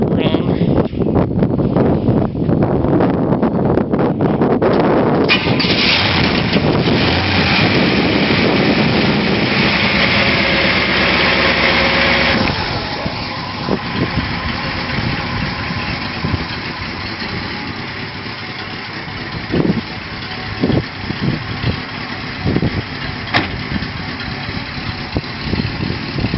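A 1966 Pontiac LeMans with a 389 V8 and single exhaust starts and settles into a loud, steady idle with a dense low rumble; it runs continuously and quiets slightly partway through, with wind buffeting the microphone.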